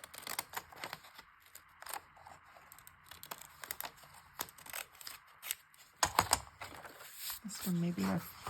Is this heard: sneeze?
no